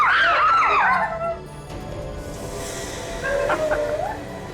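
Shrill, wavering screams of people after gunshots burst out loudly at the start and fade within a second, followed by quieter background noise and a shorter cry near the end.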